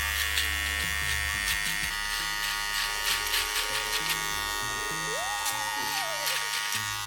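Electric hair clippers buzz steadily through a skin fade at a barbershop, a close continuous hum with slight shifts in pitch as the blade moves, with no talking.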